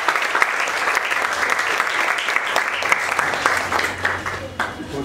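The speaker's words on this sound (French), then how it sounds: "Applaudissez pour vous." A classroom of schoolgirls in the DR Congo claps together in a loud, continuous burst of applause, with a voice talking over the clapping.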